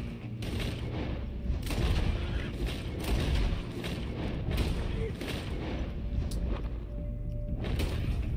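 Gunfire in Red Dead Redemption 2 on PS5, a dense run of game gunshots and booming blasts mixed into a busy action soundscape, with players talking over it.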